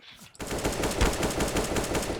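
Rapid automatic gunfire in Counter-Strike: Global Offensive, a dense loud burst of shots that starts abruptly after a brief quiet moment and continues steadily without talk.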